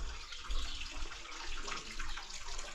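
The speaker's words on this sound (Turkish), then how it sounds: "Üstadın evinin altından akan tarihi çeşme bu." Water running steadily from a historic stone fountain beneath an old house, a close, continuous splashing gush heard on its own.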